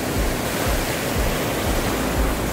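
Roaring surf at Legon Pari beach in Sawarna during high tide at dusk: a continuous, loud broadband wash of breaking waves with low thumps, heard alone.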